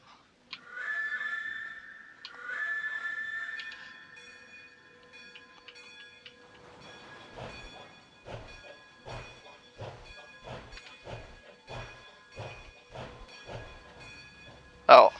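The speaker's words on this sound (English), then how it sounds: "let's give it 2 blasts of the whistle here" Steam locomotive whistle on the East Broad Top railroad, two long sustained tonal blasts close by, followed by rhythmic chuffing exhaust beats as the engine gets under way.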